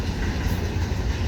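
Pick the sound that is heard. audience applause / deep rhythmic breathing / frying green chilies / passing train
passing train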